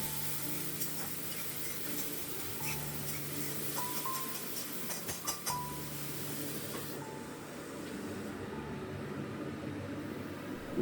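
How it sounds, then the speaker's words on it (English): Chopped tomatoes with salt cook in a pan for aloo dum, giving a steady, soft sizzling hiss that continues evenly and fairly quietly, with a few faint clinks. "add 3 large finely chopped tomatoes. And half teaspoon of salt and cook until soft"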